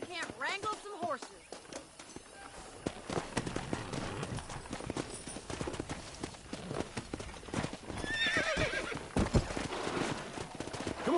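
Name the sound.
horses in Red Dead Redemption video game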